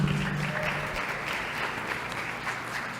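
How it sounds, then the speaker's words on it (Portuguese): An audience claps to welcome a teacher, with a steady, moderately loud round of applause that fades slightly, plus a faint tonal trace at the very start. "vamos aplaudir o professor."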